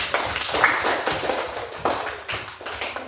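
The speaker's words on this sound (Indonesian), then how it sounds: "Beri tepuk tangan untuk kelompok 1." A classroom of students claps for a group after a presentation, a dense burst of quick, uneven hand claps close by that keeps going for a few seconds with no talk over it.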